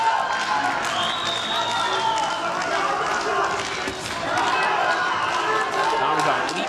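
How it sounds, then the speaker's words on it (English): At a boxing match a crowd roars steadily for Armenian boxer Tamrazyan, a dense, constant din in the arena while a commentator talks over it. "Crowd trying to get behind Tamrazyan"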